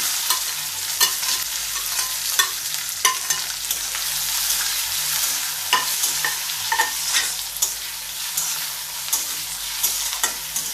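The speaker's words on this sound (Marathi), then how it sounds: "कांदा चांगला लालसर होईपर्यंत आपल्याला परतायचा आहे" Onion stirred and fried in oil alongside already-fried peanuts, a steady close sizzle with scattered sharp clicks of the spatula against the pan, continuous for the whole stretch with no talking.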